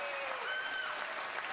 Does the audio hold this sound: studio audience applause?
yes